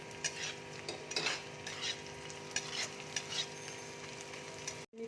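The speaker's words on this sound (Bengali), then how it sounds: "গাজরটা দেখো ভাজা হয়ে এসছে। এবার আমি ক্যাপসিকাম দিয়ে দিচ্ছি।" Capsicum and carrot stir-frying in a pan, a quiet sizzle with a spatula scraping and tapping in irregular strokes, close and faint, no speech.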